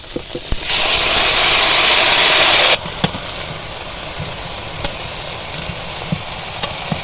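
Malabar spinach (pui shak) tipped into a hot pan for a shrimp dish, giving a loud burst of sizzling hiss for about two seconds that then drops to a quieter steady crackle with occasional small pops.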